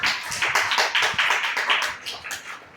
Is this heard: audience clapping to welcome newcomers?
yes